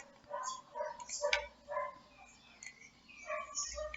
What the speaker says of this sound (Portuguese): O cachorro não para de latir.